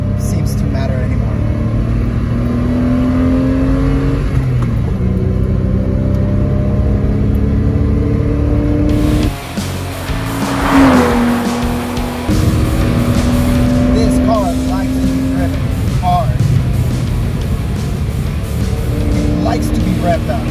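A Porsche sports car engine pulls and revs through repeated climbs, loud and steady, with a voice talking over it much of the time.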